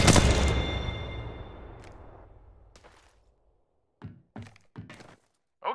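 R301 rifle fire in Apex Legends Mobile on Android: one heavy thump with a long decaying tail, then after a pause a few short, sharp bursts of shots.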